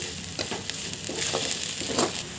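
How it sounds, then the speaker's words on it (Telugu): Ginger garlic paste fries in oil for a spicy egg curry, sizzling up close with repeated scraping stirs of a spoon in the pan, and no one talks. "ఈ అల్లం వెల్లుల్లి పేస్ట్ పచ్చి వాసన పోయే వరకు బాగా ఆయిల్లో ఫ్రై చేసుకోండి"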